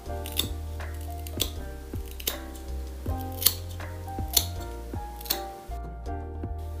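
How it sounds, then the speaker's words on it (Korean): Scissors snip through a few strands of hair bangs, a series of sharp, close metallic snips spaced about a second apart, each with a brief slicing scrape, in an otherwise quiet room. "세 가닥을 코끝에서 엄지 모양으로 잘라줍니다."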